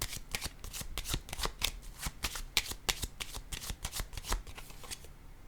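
Tarot cards being handled and set down: rapid, close, papery flicks and slaps in a dense, uneven rhythm throughout.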